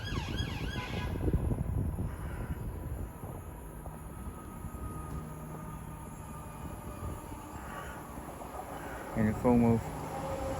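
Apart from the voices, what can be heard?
Great Western Railway train arriving at Didcot Parkway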